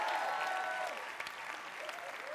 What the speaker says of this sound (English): Let's give the Lord a hand.